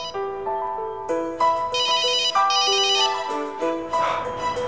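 Loud, close cell phone ringtone cycling through a chiming melody, repeating steadily for a few seconds on its own, as the phone is called inside a chamber for a blast test.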